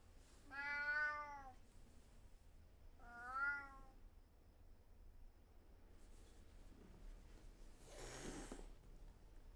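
A cat meows twice in close succession with drawn-out, wavering cries near the start, then a soft rustle and a brief breathy noise follow in a quiet indoor setting.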